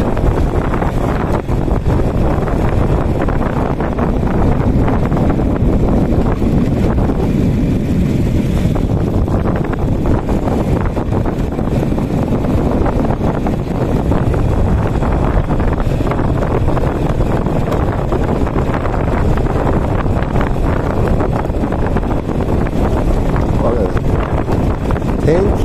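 Motorbike ridden through rain in Laos, with heavy wind buffeting the microphone throughout; a steady loud roar of wind and road noise fills the whole stretch, with no clear engine detail standing out.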